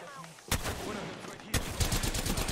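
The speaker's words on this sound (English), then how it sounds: "Taking fire." Loud bursts of gunfire from a shooter video game, with one sharp volley about half a second in and a second heavy burst a second later, each trailing into rattling, echoing shots.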